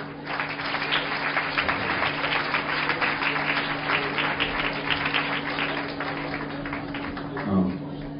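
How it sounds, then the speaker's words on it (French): Applause from an audience at a religious hillula evening, a steady wash of clapping lasting several seconds over a constant electrical hum, with a brief voice near the end. "Je vous demande, mesdames, messieurs, un tonnerre d'applaudissements."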